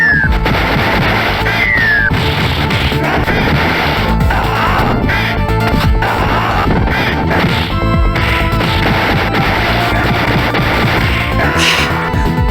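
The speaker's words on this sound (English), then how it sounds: "All those explosions." Explosions and crashing hits from Streets of Rage 2, the European version running on an emulator, pile up densely over loud, continuous game music with no talking.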